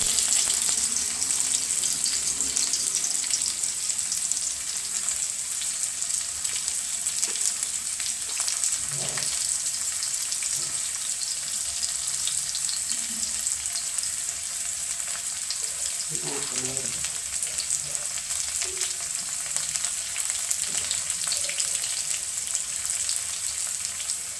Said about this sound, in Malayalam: ചുമന്നുള്ളി, താളിക്കണം.